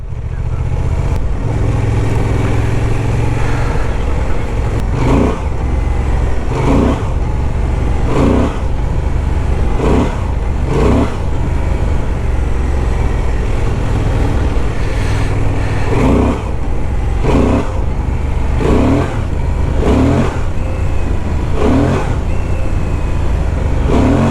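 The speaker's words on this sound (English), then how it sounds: "So I just tried to play with the throttle somehow safely under my skills" Honda Transalp 750 motorcycle engine on an off-road training ride, loud and close, with repeated throttle blips rising and falling in a steady rhythm over a constant engine drone.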